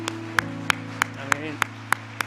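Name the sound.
congregation applause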